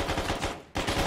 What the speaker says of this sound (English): I'm getting shot at by an enemy.